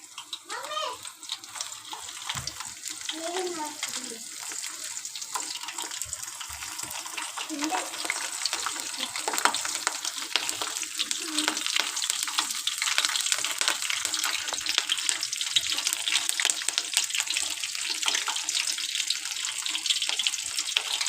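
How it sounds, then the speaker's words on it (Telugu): Oil holding mandaram leaves and flowers, aloe vera pulp and curry leaves heats in a pan with a continuous crackling sizzle that builds over time, with a voice briefly murmuring early on. "ఇలా ఆయిల్ మరగనివ్వాలి"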